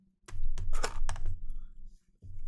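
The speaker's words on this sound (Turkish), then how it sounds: "Bunu taktıktan sonra arkadaşlar alt kısma da bunu geçiriyorum hızlıca. Üç ayağını açıyorum." Three legs of a Pergear desktop mini gimbal tripod are folded open, giving a close, fast series of sharp plastic clicks and snaps, one after another, with no talking.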